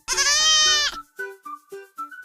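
An antelope call for a children's alphabet lesson: one long, loud, quavering bleat followed by a rapid series of short, clipped bleats, up close and alone.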